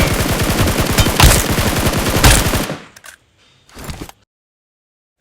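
Loud, rapid automatic gunfire from a BGMI mobile game bursts close up for a few seconds, then cuts off, followed by a short clatter before silence.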